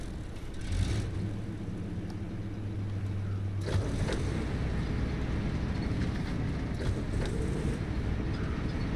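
A STEP E-167 truck engine in the SnowRunner game starts up, a brief low whir settling into a steady, close idling rumble that runs throughout, with a short sharp rev partway through.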